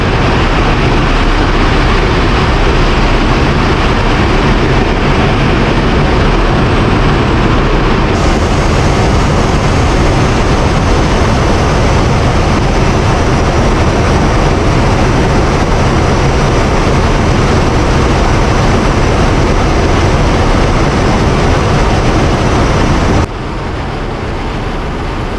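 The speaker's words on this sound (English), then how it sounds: "This is how 737 landing looks like from the wheel well." A Boeing 737 landing, heard from inside the wheel well: a loud, unbroken roar of wind and machinery that shifts slightly partway through and eases near the end.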